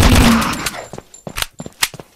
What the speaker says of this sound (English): Oh my gosh, I can shoot this thing fast.